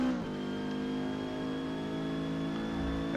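A Renault 8 Gordini engine in Forza Motorsport drones steadily at high revs on a qualifying lap at the Nürburgring, a continuous loud tone climbing only slightly with no voices.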